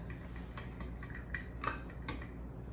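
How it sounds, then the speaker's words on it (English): Quiet clinking and scraping of a utensil against a bowl as pepper, seasoning and crushed dried onions are stirred together, a few soft irregular taps in a still room. "I'm gonna mix that up really good."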